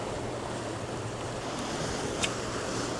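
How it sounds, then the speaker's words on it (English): Steady broadband rush of river water pouring from a tube into a draining river, a continuous wash of noise with no talking over it. "They just way increased the amount of water coming out of that tube."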